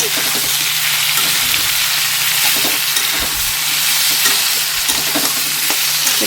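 Taro and potato fry in a pan with a steady, dense sizzle and crackle throughout, close and loud, with faint stirring scrapes and no talking.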